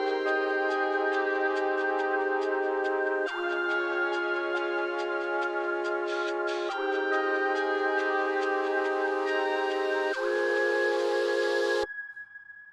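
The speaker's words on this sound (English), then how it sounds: "I introduced a new instrument to represent the chord progression, which is the mellotron flute." Mellotron flute playing a slow chord progression in an alternative R&B pre-hook, four sustained chords changing every few seconds with a faint ticking beat underneath, soft and steady before cutting off abruptly near the end.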